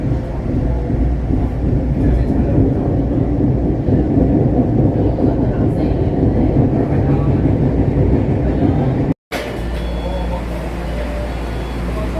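Loud, steady rumble of a subway train running near Kendall/MIT station, with a brief dropout near the end before the rumble resumes.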